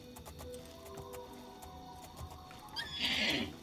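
A horse whinnies in the video game Oblivion, a loud, bright neigh near the end over low game ambience and faint clip-clop footsteps.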